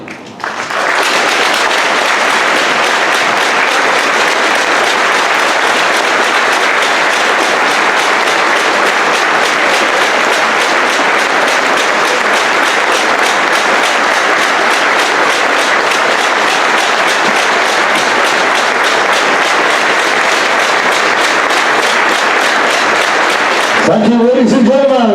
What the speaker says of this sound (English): join with us for a 13-second applause in memory of family, friends and acquaintances who are no longer with us today